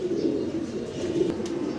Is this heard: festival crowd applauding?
no